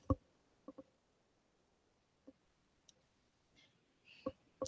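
A few sparse, faint taps and clicks on a student's iPad, single and doubled, spaced apart in a quiet room and never steady.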